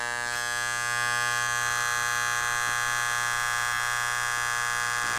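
A 1992 Wahl electric hair clipper buzzing at an excessive power setting, a loud, steady, harsh, rattling hum that rises slightly in level after the first second and then holds constant and close.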